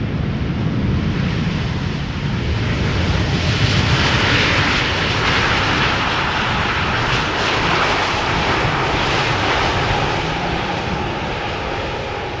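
Boeing 787 Dreamliner airliner at Schiphol Airport, its engines producing a loud, steady broadband roar that swells slightly mid-way and holds for the whole stretch, with wind noise and no talking.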